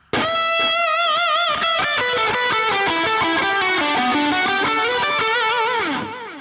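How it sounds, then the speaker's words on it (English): Distorted electric guitar rock lead playing a fast pentatonic lick, a quick run of picked notes with bends and slides, loud and sustained throughout before fading on a final note, with no talking. "The first one is gonna be a pentatonic lick,"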